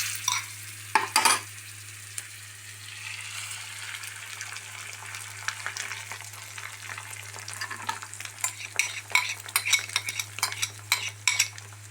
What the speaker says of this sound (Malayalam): ഇത് നമ്മൾ നേരത്തെ ആക്കി വെച്ച 3 മുട്ട ആക്കിയത് ഇതിൽ വീത്തണം